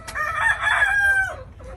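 A Kearney White Hackle rooster crows once, loud and near, a sustained strained call that trails off, with no talk over it.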